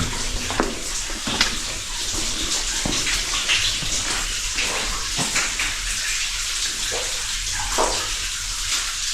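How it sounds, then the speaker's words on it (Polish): Continuous rushing and splashing water echoing in a short underground mine chamber at Fryderyk mine, Tarnowskie Góry, steady throughout with occasional sharper splashes. "fajnie tam słychać, że woda pływa"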